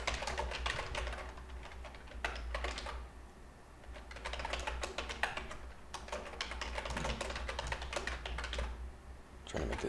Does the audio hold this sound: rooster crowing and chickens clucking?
no